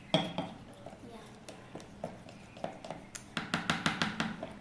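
Slime mixture being stirred with activator using a spoon, giving a run of quick clinks and scrapes against a bowl, sparse at first and then a denser burst of taps near the end, close and fairly soft.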